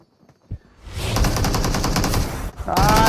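Automatic gunfire in the battle royale game BGMI, a loud, close, rapid burst lasting over a second, followed by a brief pause and another shot with a ringing tail.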